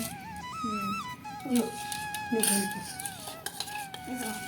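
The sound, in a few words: mixing egg bonda batter with gram flour in bowl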